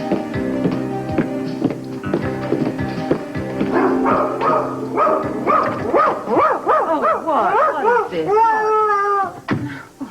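A puppy barks and whimpers in a domestic setting, rising yips and whines repeating over the last half, loud and close, with people talking and movement sounds in the first part.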